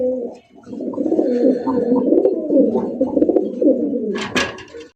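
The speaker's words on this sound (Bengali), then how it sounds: "এখানে রয়েছে চমৎকার আরো এক জোড়া কালারিং রাসগোল্লা কবুতর" A pair of black, crested fancy pigeons at a pigeon market coo loudly and continuously in close, rolling, warbling phrases, with a brief sharp noise near the end.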